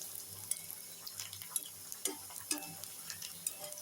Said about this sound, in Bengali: পেঁয়াজ, রসুন, শুকনো মরিচ ভেজে নিচ্ছি।